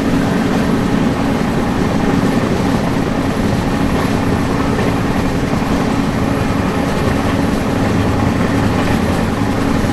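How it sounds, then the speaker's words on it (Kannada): Express train 17309 from Yesvantpur, Bengaluru, to Vasco da Gama, Goa, runs along the tracks with a loud, steady rumble and rattle that continues without a break and with no talk. "ಸೌಂಡ್ ಬರೋದಲ್ಲ, ಟ್ರ್ಯಾಕ್ ಸೌಂಡು, ಅದೆಲ್ಲ ನಿಮಗೆ ಇದರಲ್ಲಿ ಕವರ್ ಮಾಡಿ ತೋರಿಸ್ತೀನಿ."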